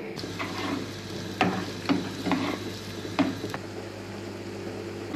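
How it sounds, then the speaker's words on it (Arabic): A small onion stirred in a small pan with butter and oil: a low, steady sizzle with several brief scraping clinks from a utensil, no voices. "معانا بصله صغنونه نقلبها كويس لحد ما تدبل معاك"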